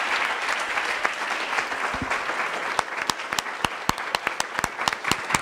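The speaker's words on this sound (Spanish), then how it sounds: "Y les pido un aplauso para estos panelistas de lujo que hemos tenido." An audience applauds panelists at a forum on Mexico, with steady, dense clapping that turns into sharper, more separate claps toward the end.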